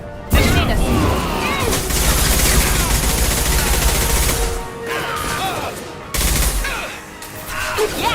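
Gunfire in the video game Mass Effect 2 rattles in dense, loud bursts of rapid shots with crashing impacts, briefly pausing before another burst starts, set against game combat noise.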